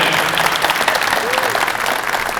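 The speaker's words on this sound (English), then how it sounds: "round of applause for all of the city officials that have helped this day happen" A crowd at an outdoor hometown celebration day in Providence, Rhode Island, applauds city officials with steady, dense clapping throughout, and a voice carries over it.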